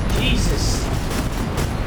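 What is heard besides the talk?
explosions in WW1 VR game War Remains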